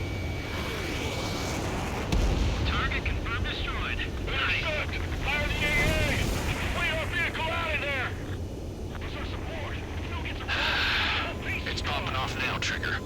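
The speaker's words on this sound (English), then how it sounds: "Fire the AA!" Anti-aircraft guns fire in Ace Combat 7: Skies Unknown over a steady roar of jet engine and wind, with rapid chattering bursts and radio voices talking throughout the dense, loud mix.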